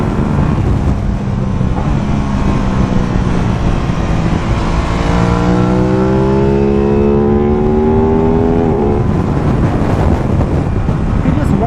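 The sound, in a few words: Aprilia RS660 motorcycle engine on throttle while riding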